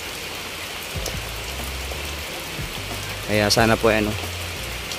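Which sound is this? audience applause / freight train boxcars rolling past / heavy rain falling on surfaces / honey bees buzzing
heavy rain falling on surfaces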